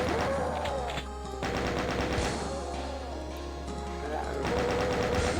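Chaingunner enemies in Doom's No Rest For The Living episode, Inferno of Blood level, fire chainguns in dense rapid bursts, a continuous rattling barrage with scattered shots layered over it, close and loud.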